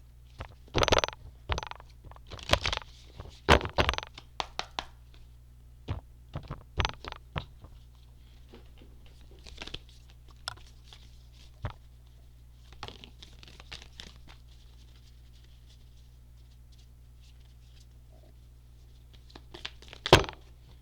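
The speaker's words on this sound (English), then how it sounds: "I'm going to shuffle a couple of times because I've already shuffled this deck" A deck of cards shuffled a couple of times at close range, giving quick bursts of crisp riffling and snapping, then a quieter stretch of faint handling and a final short riffle.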